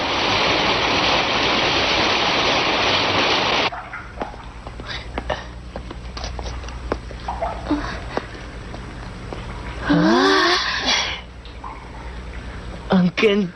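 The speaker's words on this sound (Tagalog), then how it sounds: "Lumalakas ang lagaslas ng tubig." Rushing water echoing inside a cave grotto: a loud steady roar at first that cuts off abruptly, then quieter dripping and trickling with scattered splashes, a brief whoosh later and people talking faintly.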